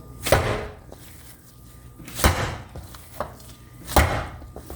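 Köfte meatball mixture, kneaded by hand, slammed and pounded down against a surface: three heavy, separate thuds about two seconds apart, close and fairly loud, with lighter knocks in between and no voices.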